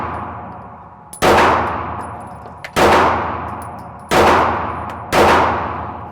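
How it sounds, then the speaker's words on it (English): Four loud, sharp shots from a Glock 19 Gen 6 pistol, fired singly at roughly one-to-one-and-a-half-second intervals, each with a ringing echoing tail. "let's test out the new Gen 6 Glock 19."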